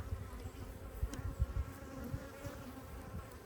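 Honey bees buzz steadily around a hive during a spring inspection, a close, continuous drone with individual bees swelling louder as they pass near, heard alone without talking.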